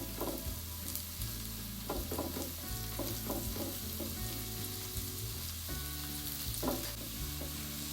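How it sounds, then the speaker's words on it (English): Eight sliced portobello mushrooms sizzle steadily in a pot, a loud, continuous frying hiss with intermittent stirring clatters and no voices. "So the first thing I'm going to put in the pot is the mushrooms. I want to go ahead and get them softened."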